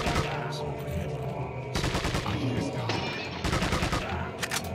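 Gunfire in Resident Evil 4, with rapid bursts of shots that start and stop over a steady game soundtrack. A mixed background continues throughout, with no clear talk.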